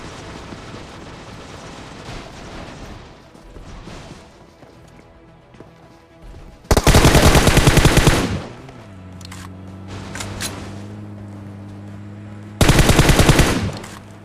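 Loud automatic gunfire from the PUBG Mobile battle royale game, two sharp sustained bursts of rapid shots separated by quieter in-game ambience and footsteps.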